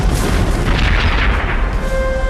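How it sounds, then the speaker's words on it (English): A heavy cannon barrage at the Battle of Waterloo rumbles as continuous, loud, booming artillery fire, deep and dense with no clear gaps between shots. "Napoleon ordered a barrage of his most powerful cannon."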